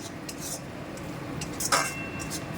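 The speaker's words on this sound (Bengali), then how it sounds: "আদা রসুনটা একটুখানি কষিয়ে নেব, যাতে কাঁচা গন্ধটা চলে যায়।" Ginger and garlic paste sautéed in a pan for a banana-flower dish, a spoon clinking and scraping against the metal in short, quiet bursts over a faint sizzle.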